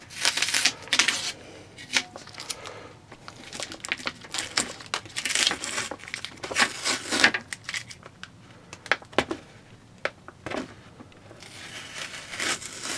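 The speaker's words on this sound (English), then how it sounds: "Just got to take out the tape." Adhesive tape is peeled off a bass drum head after a vinyl decal goes on, giving close crackling rips and crinkles in irregular bursts with brief pauses.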